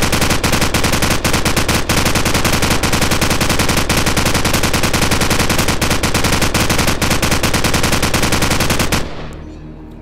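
Call of Duty 4 gunfire with unlimited ammo: a nonstop, loud automatic weapon rattles in rapid bursts for about nine seconds, then cuts off abruptly into a fading echo.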